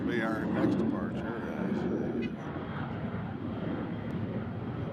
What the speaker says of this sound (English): Learjet took off.